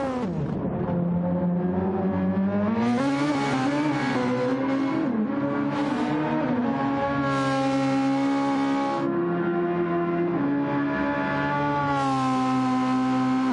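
Super Formula race car in a sim race at the Nürburgring, a loud high-pitched engine whine rising and falling steadily through gear changes as it climbs and brakes through corners, heard alone throughout.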